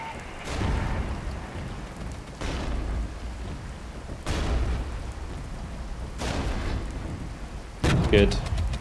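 Artillery shells from a Regiments strategy game slam into troops in a run of heavy booming blasts, roughly every two seconds, each a loud low rumble that decays into a noisy wash, with a sharper crackling burst near the end.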